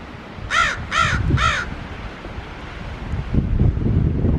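Three loud, close caws from a crow in quick succession, then gusty winter wind rumbling and buffeting the microphone with no further calls.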